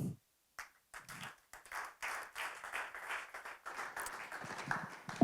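An audience at a panel discussion on autonomous driving claps in scattered bursts that swell into fairly steady applause, heard from a moderate distance with no voices over it.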